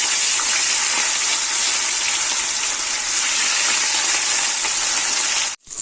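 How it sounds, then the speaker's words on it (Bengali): Pieces of katla fish fry in hot oil in a home kitchen, a loud, dense, unbroken sizzle close up that runs without speech and cuts off abruptly just before the end. "তো মাছগুলো ভাজা হয়ে গেছে লাল লাল করে"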